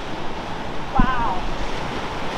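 Ocean surf washes steadily beside turquoise water, a continuous wash of breaking waves with wind noise on the microphone and a brief low thump partway through.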